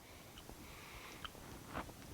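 Quiet, close chewing with a few sharp crunchy bites as a crisp spicy chicken sandwich is eaten.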